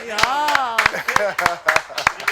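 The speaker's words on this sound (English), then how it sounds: "Give yourselves a round of applause, everyone" A small group in a podcast studio gives a round of applause, a series of sharp, close hand claps in an uneven rhythm while a voice talks over them.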